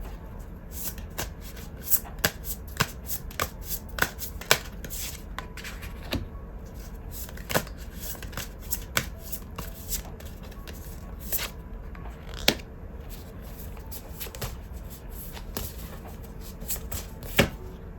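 Tarot cards are shuffled by hand in a quiet room, a steady run of soft papery riffles and flicks with sharp card snaps at irregular intervals, close and fairly quiet throughout.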